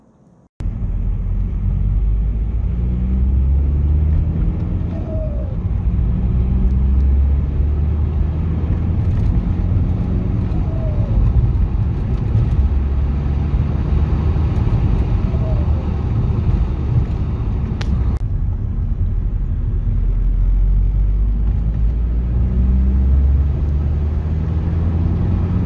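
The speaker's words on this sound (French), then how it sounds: "pour que vous entendiez le bruit donc, de la décharge du turbo" A diesel car with a hybrid turbo, decat and silencer delete runs steadily, giving a continuous low engine rumble with faint, brief whooshes of turbo discharge spaced several seconds apart.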